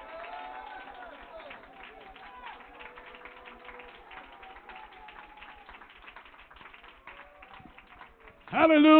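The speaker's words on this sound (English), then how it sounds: "and clap your hands." A church congregation at a revival service claps along in a steady, fast rhythm under a preacher's continuous voice, ending with a sudden louder burst of sound.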